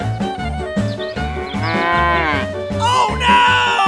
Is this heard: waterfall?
no